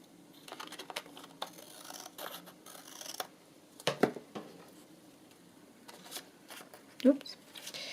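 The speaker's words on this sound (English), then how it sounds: "I think I might have to just trim across the top of that" Scissors trimming across the top edge of fabric for a sewn floating pocket, giving a few crisp, close snips among soft handling and rustling.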